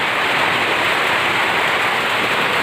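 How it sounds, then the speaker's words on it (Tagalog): Heavy rain falls in a steady, dense hiss, loud and close, with no let-up and no voices. "lakas ng ulan"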